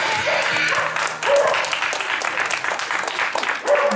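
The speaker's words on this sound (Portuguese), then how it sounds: "uma salva de palmas pra esse casal" A crowd claps enthusiastically for a couple at a marriage proposal, the applause mixed with cheers and a voice or two calling out, rising and falling briefly.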